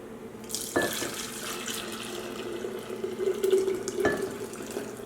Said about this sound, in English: whatever space is left over, I'll just fill the rest of it with plain water.